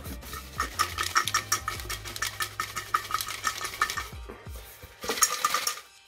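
Prize draw entries are shaken and stirred in a container, making a loose, rattling clatter in uneven bursts with brief pauses. A final louder shake comes near the end, and no one speaks.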